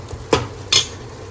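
A cooking pot takes a tempering of tomatoes, turmeric and salt: two distinct clinks of a metal spoon against the pot, a short sharp knock followed by a second brighter scrape, over a faint background hum.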